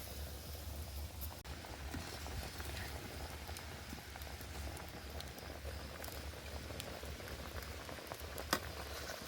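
A rice pot and mung dal boiling side by side on a clay stove, giving a faint, steady bubbling patter with no voices.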